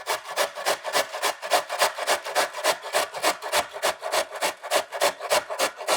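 Cauliflower grated on a sharp kitchen grater: a fast, steady run of rhythmic rasping strokes, about three per second, close and clear with no talking.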